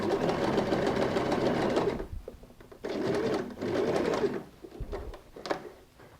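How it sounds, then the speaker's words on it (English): Sewing machine stitching a tote bag, running in bursts of fast whirring stitches with short pauses between, close and fairly quiet, with faint pigeon coos in the background. "When you come to the starting point, sew over a little extra and finish."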